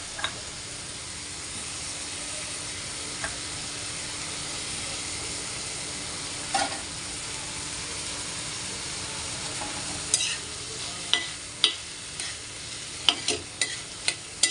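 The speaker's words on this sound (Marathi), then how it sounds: "आपण व्यवस्थित परतूया आपण" Egg bhurji sizzles steadily in a pan while being sautéed, a constant close frying hiss broken by occasional scraping stirs that grow more frequent toward the end, with no talking.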